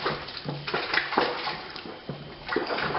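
Stirring boiling water into a home-brew Coopers Draught beer kit tin, with repeated sloshing and splashing swirls in a close, rhythmic pattern, no speech.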